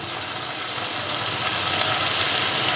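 Ginger garlic paste frying with softened onions for chicken keema, a continuous close sizzle and hiss that swells slightly louder partway through, with no talking.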